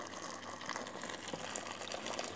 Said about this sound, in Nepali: पानी हाल्ने,